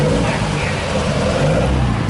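Engine of an original Fast & Furious movie car, a steady loud mid-pitched rumble that swells slightly as it revs, continuous throughout with a hint of voices nearby.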